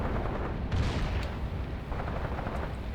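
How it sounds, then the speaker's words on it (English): Mortar and artillery fire in the WWII tactics game Graviteam Tactics Mius Front: a dense, rumbling barrage of heavy booms with one louder blast near the start, continuous low thunder throughout, no voices. "Okay, I guess this was a mortar."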